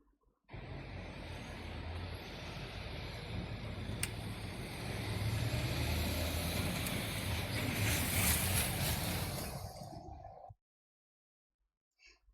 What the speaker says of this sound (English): This is street traffic.